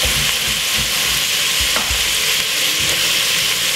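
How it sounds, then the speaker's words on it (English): Cabbage stir-frying in a pot for a Jamaican-style dish, a loud continuous sizzle with rhythmic scraping stirs throughout, close and without talk. "So that's the cabbage in the pot now. Give it a quick stir."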